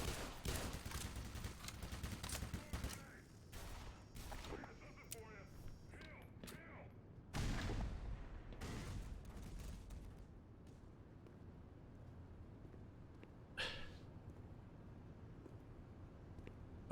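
Gunfire in the Black Mesa game (chapter "Power Up") as the player is cornered and shot at: bursts of loud shooting in the first ten seconds, then quieter, with a brief burst near the end, while someone talks over much of it.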